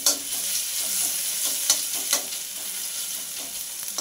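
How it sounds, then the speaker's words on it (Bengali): Crushed garlic cloves sizzling in hot oil in a pan where dried chillies were just fried, a soft steady fry with a few sharp clinks of stirring, close and quiet, no voices. "5 কোয়া রসুন, থেতো করা রসুন দিয়ে রসুনটা হালকা করে ভেজে নেব।"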